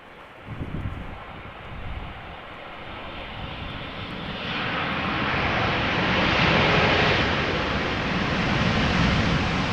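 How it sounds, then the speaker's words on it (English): A seven-year-old KLM Boeing 787-9 Dreamliner on a crosswind landing at Amsterdam Schiphol after a long flight from Las Vegas, its broad jet roar swelling steadily from a distant rumble to a loud, sustained wash as it passes close. "a KLM Dreamliner arriving from Las Vegas, flight 636-787-9 Dreamliner, 9 hours and 16 minutes underway, about to touch down here"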